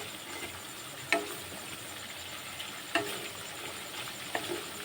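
Masala spices frying gently in oil over low flame for a potato, capsicum and paneer dish: a soft, steady sizzle with a few sharp clicks of a stirring spoon against the pan.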